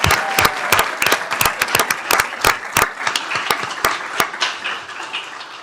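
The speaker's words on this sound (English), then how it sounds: "Let's give her a round of applause." A room full of people at a Tarrant County Commissioners Court meeting gives a round of applause, with distinct sharp claps layered over general clapping that gradually thins out.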